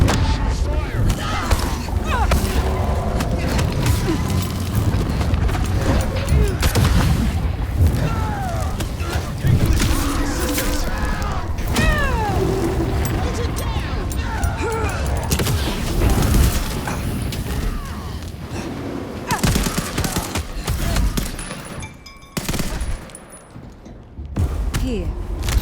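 Gunfire in Vampire: The Masquerade - Bloodlines 2 rattles through a long stretch of combat noise, with repeated thumps and bursts under shouting voices and mechanical clatter.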